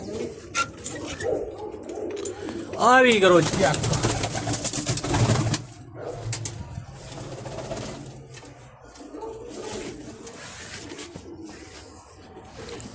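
Pigeons coo with soft, repeated calls at the Takhtupura fair, mixed with crowd noise and people talking close by.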